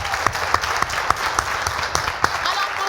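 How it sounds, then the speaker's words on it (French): A television studio audience claps loudly, with the sharp accented beats of rhythmic clapping standing out at a steady pace over a constant layer of applause. "on a surtout un public chaleureux qui va encore s'applaudir très très fort"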